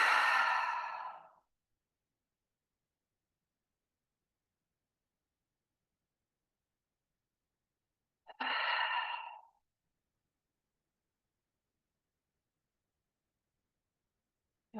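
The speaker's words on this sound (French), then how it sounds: "en inspirant par le nez et en expirant par la bouche avec un son" Two slow breaths taken in through the nose and pushed out audibly through the mouth, each a soft, airy sigh-like exhale of about a second, separated by a long silence.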